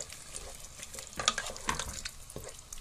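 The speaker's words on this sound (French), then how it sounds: "Et vous mélangez." Tomato sauce mixture being stirred in a pan for lasagne bolognese, a steady wet scraping and sloshing with a soft sizzle underneath and a few sharper utensil knocks, close and moderately loud.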